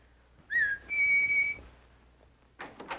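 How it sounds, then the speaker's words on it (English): A person whistles, a short sliding note followed by a longer steady held tone, clear and fairly close, with a few brief noisy rustles near the end and no talking, in a 1950 film scene. "I thought you'd never whistle."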